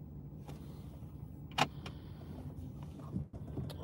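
A police car arriving on a Baltimore street: a steady low engine and traffic rumble with a sharp clunk midway and a brief swell near the end, heard from close by.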